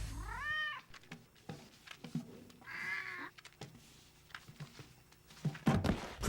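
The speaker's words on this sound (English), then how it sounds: "Does your cat make too much noise?" Cat meowing in a TV commercial: a clear, close meow at the start and a second meow midway, mixed with faint thumps, bumps and quiet pauses.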